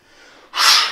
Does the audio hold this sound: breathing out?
yes